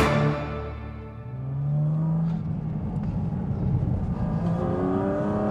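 A 2023 Porsche Cayman GT4 RS engine revs up with a rising growl, eases off, then holds a throaty, rumbling note close by.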